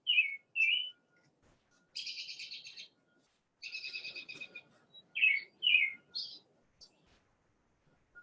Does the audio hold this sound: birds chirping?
yes